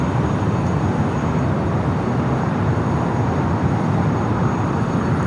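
Steady broadband jet engine roar of an airliner taxiing at Los Angeles International Airport, continuous and fairly loud throughout with no talk.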